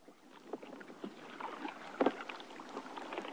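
Rhythmic splashes and knocks of oars dipping into water, a boat being rowed close by with light wind noise in the background.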